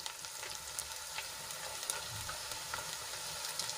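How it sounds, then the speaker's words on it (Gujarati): Onion frying in a covered pan makes a faint, steady sizzle with light crackles throughout and no talking. "ડુંગળીને આપણે ગુલાબી રંગની થાય ત્યાં સુધી ઢાંકીને ચડવા દઈશું"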